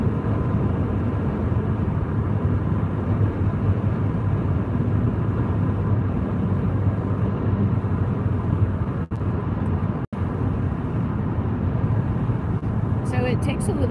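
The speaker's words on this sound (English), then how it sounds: "We're in the car driving on the big highway." Inside a car cruising along a big highway, a constant low road and engine rumble with broad tire noise fills the cabin steadily and evenly from start to finish.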